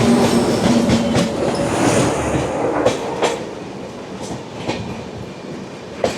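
A Shatabdi Express pulls out of Cuttack Junction, its carriages keeping up a loud, steady rumble with repeated clickety-clack over rail joints, heard from on board without any talk.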